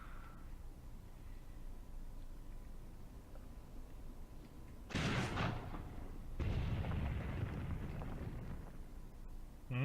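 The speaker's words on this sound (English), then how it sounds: "I think the Dushka is shooting at the Stuk. I mean, it is a heavy machine gun" DShK heavy machine gun firing in the Graviteam Tactics war game: two heavy booming bursts of fire over a low ambient rumble, the second rolling on into a sustained roar.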